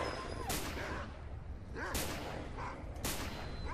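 Three sharp gunshots crack out in S.T.A.L.K.E.R. Call of Pripyat, spaced about a second apart over a noisy, fairly quiet background.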